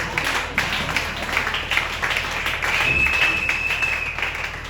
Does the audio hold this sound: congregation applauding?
yes